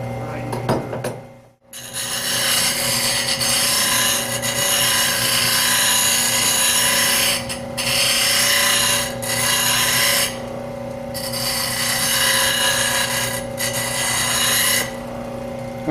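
A bench grinder sharpens a woodturning tool with a sustained steady hum and gritty rasp, interrupted by a few short pauses as the tool lifts off the wheel, loud and close.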